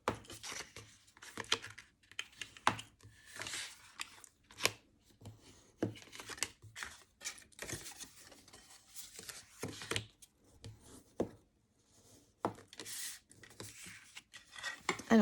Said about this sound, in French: Je vais commencer par bien sûr marquer et accentuer donc toutes mes marques de pli.